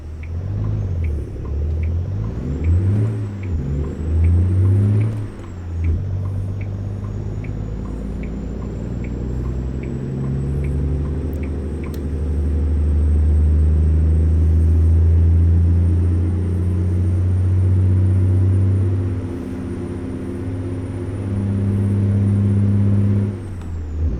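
A truck engine in American Truck Simulator pulling away from a standstill in first gear, a loud deep diesel rumble that climbs and drops through revs, steady and close throughout.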